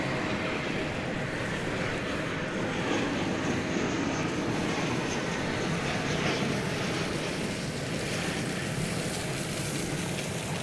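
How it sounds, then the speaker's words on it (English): An American Airlines Boeing 737-800 arriving from Richmond, Virginia produces a continuous, distant broadband rumble that holds steady and unchanging, with a windy hiss over it. "That was American Flight 2204, 737-800 coming in from Richmond, Virginia"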